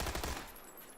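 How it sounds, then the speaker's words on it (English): A rapid burst of automatic gunfire in a PUBG esports match, several quick loud shots in the first half second, then fading into a dense wash of game noise. "Shots come in."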